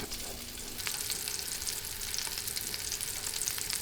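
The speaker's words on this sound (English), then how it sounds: "now it's time the shallot and the garlic. If we saute this" Shallot and garlic sautéing in a pan over raised gas heat, a steady close hiss of sizzling with faint crackles and soft stirring, continuous and without voices.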